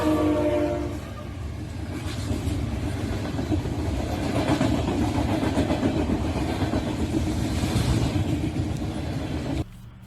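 A CSX freight train, Q627, rolls past with a rare MP15DC locomotive trailing, making a loud, close, steady rumble of engine and rail noise that holds throughout and then cuts off abruptly at the end.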